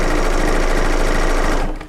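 A serger sewing machine runs at full speed as fabric feeds through for a quilt, a loud, dense, even mechanical whirr that holds steady throughout and then winds down at the end.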